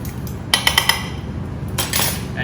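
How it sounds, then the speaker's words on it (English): A spoon clinks against a bowl while stirring a cinnamon sugar mixture, a few quick sharp taps followed by a softer scraping stir, close and brief. "Stir that up."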